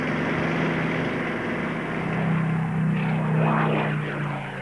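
A Supermarine Spitfire with its 12-cylinder inline piston engine and propeller drones steadily, a full, continuous roar that swells slightly toward the end, with no voices.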